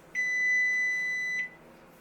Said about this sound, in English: Turn that timer off, cancel the oven, because we are taking this out.